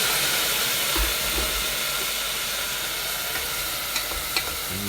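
Onions hiss and sizzle steadily in a hot pan after a splash of water, a bright continuous crackle with a few sharper pops near the end.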